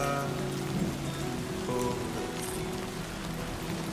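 Steady rain falls in the Death Stranding 2 video game, a dense, even hiss of drops on surfaces with a low musical tone running beneath it.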